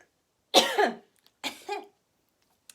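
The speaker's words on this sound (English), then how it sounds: "Excuse me while I cough" Two short, close coughs from a mindfulness instructor, one after another, with quiet pauses around them.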